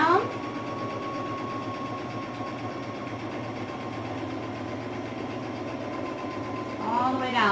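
Sewing machine stitching the pocket seam of a vintage-inspired skirt, a steady continuous motor hum with needle rattle running nearly the whole stretch, starting and stopping with slight bumps at each end.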